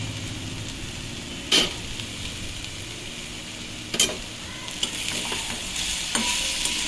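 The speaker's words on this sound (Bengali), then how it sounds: "আরও কিছু সময় আমি শাকটা ভেজে নেব, যতক্ষণ না শাকটা সেদ্ধ হয়ে যায়।" Amaranth greens (note shak) fry steadily in a pan with salt, giving a soft continuous sizzle broken by a few sharp clinks of a spatula against the pan at intervals.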